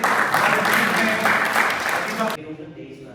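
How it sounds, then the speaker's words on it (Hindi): An audience at an art society event in Bhopal applauds a painter, with close, steady clapping that cuts off abruptly, followed by a quieter stretch. "तो तालियां बजाइए, तालियां बजाइए।"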